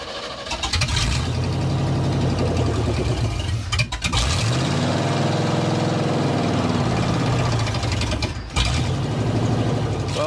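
A 1987 Chevy square body truck engine, with a suspected faulty distributor, runs rough and struggles to idle: a loud, close, continuous uneven rumble with a couple of brief dips and surges.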